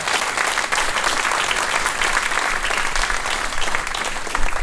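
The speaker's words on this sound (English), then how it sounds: "Can we just give a round of applause to the Ethos Lab crew" Dense, loud round of applause from an audience at a talk on AI education, steady clapping throughout with no voice over it.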